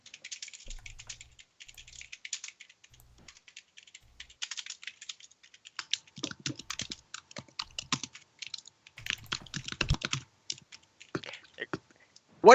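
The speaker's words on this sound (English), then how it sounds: "It was loud typing from two people at once." Two people typing loudly on computer keyboards at once, dense rapid clattering keystrokes in uneven bursts, close and crisp, with a louder thump at the very end.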